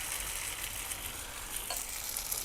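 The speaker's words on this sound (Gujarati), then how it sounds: "હવે આપણે આપણું બેટર નાખી દઈશું. ગેસની ફ્લેમ એકદમ લો જ રાખવાની છે." Farali batter poured into a pan over a low gas flame sizzles in a steady, close, even hiss that holds for the whole moment with no voices.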